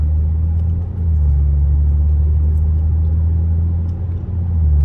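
Audi A6 fitted with a Magnaflow catback exhaust during normal driving, a steady low engine and exhaust rumble heard from inside the car without talk.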